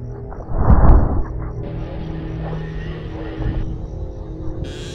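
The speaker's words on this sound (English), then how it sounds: "Listen to the breathing now." Heavy, rasping animatronic breathing at the door in Five Nights at Freddy's 4, a rough exhale surging early then settling into a steady hiss over a low game hum.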